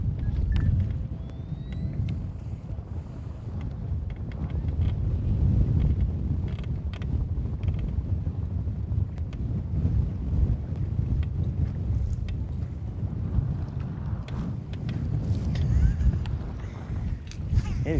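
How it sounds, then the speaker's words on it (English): Breezy wind on Lake Guntersville, heard as a steady, fairly loud low rumble of gusts buffeting the microphone for the whole stretch, with faint mechanical noise in the background. "It's getting breezy, boys and girls."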